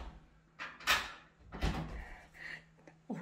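A locked door is tried in a hide-and-seek video game, giving a few short, muffled clunks and rattles spread over about three seconds, with no talking.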